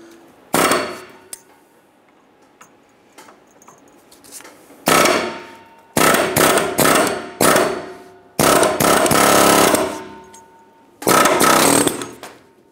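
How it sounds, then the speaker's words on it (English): An air chisel hammers out a track bar bushing on a 1997-2006 Jeep Wrangler in a series of loud, harsh rattling bursts of one to two seconds each, separated by short quiet pauses. "we're going to use our air chisel, and we're going to work around the perimeter here"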